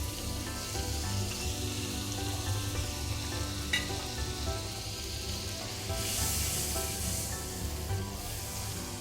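Butter sizzling in a pan over a slow, low flame while French toast is made, a steady close crackling hiss running throughout with a brighter burst of spattering near the end.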